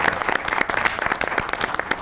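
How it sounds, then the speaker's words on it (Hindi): A television studio audience claps in a short, brisk burst of applause, close and lively, for a talk show guest. "तो यार उनके लिए तालियां यार।"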